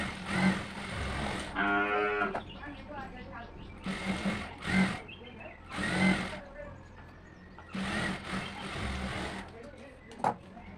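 Sewing machine stitching a blouse sleeve side seam, running in several short whirring bursts of rapid needle chatter, close by, with a person talking in between.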